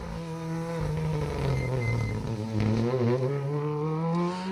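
An R5 Plus rally car on an asphalt stage rally roars past nearby, the engine note climbing and falling through gear changes with steady loud revving and no talk.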